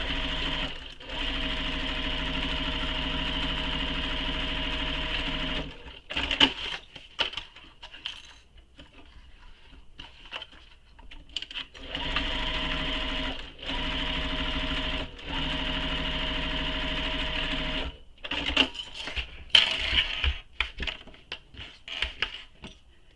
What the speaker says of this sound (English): So just the sides we're going to sew, not the top here.